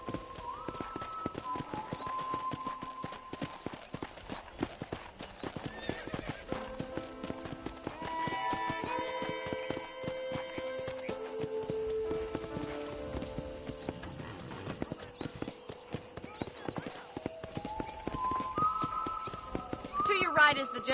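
Horse hooves clip-clopping at a steady trot in Red Dead Redemption, riding into a ranch town, with a continuous rhythmic patter under background music, a voice talking over it, and a brief whinny.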